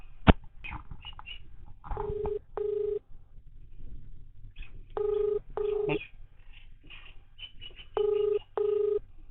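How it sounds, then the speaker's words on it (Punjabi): An outgoing phone call rings out with three pairs of short electronic ring tones spaced evenly apart, over faint background noise and occasional bird chirps, with no one answering. "ਵੇਖਦੇ ਚੁੱਕਦਾ ਜਾਂ ਨਹੀਂ ਚੁੱਕਦਾ ਬੈਲ ਜਾਣ ਲਈ ਆ"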